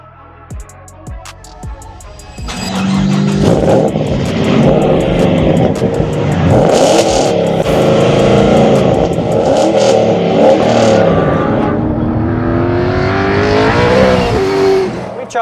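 A V8 Holden Commodore fitted with a Manta Performance exhaust revs loudly and close, the engine building through sustained, wavering high-rev sweeps after a few sharp initial blips, with no talk over it.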